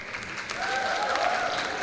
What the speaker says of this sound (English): just applause